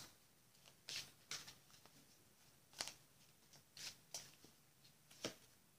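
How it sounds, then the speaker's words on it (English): Oracle cards shuffled by hand in a quiet room, giving a series of brisk riffling bursts with short pauses between them, close and fairly soft. "let's pull some cards"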